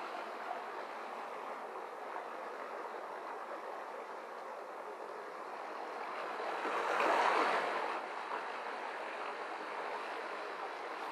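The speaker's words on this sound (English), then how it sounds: "I love these small forest streams." A small forest stream flows steadily on a wet woodland trail, a continuous soft rushing wash that swells a little louder for a moment before settling back.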